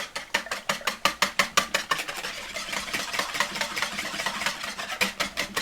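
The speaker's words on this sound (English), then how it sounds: "Whisk those up." Two eggs are whisked briskly in a bowl, a fast regular run of sharp clicking strokes that pauses briefly in the middle before picking back up, close and clear with no talk.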